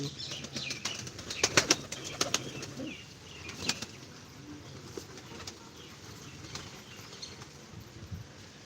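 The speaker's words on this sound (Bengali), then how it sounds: "এখানে এসে গিয়েছে সব কবুতরগুলো" A flock of pigeons flies in to land during rain, giving a few sharp bursts of wing flapping early on, then quieter rustling and soft cooing against steady background noise.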